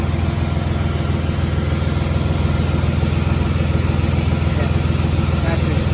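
A BMW M3 engine idles with a steady, even rumble heard up close, holding constant throughout without revving.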